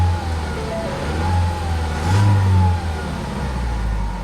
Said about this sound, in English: Yeah, it's got a misfire at low RPMs, guys.